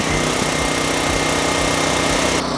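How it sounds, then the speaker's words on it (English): A home backup generator engine runs with a loud, steady, close mechanical drone after being started by remote control, continuous throughout with no talk. "We can go ahead and click on the button and it will kick the generator on."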